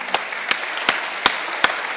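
Applause from the audience at an education and economic development congress comes through as five distinct, evenly spaced sharp claps in a slow, steady rhythm over a quiet room hum.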